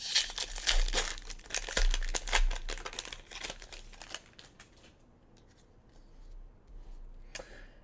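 A Magic: The Gathering Kaldheim booster pack's foil wrapper is torn open and crumpled, with loud crinkling for about four seconds that then fades to softer rustling of the cards.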